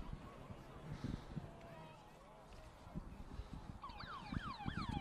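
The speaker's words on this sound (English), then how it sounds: "So the siren sounded here for the halftime break." A halftime siren at a 2018 Illawarra first-grade rugby league match at Gibson Park wails up and down loudly near the end, after crowd noise and commentary.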